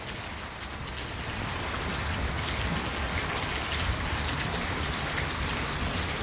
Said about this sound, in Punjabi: ਲਗਾਤਾਰ ਪੂਰੀ بارش ਹੋ ਰਹੀ ਹੈ